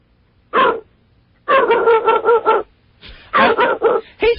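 A pit bull barks through a telephone line, sounding thin and compressed: a single bark, then a rapid run of loud barks, then a few more clustered barks after a pause, close and dominant with no voices.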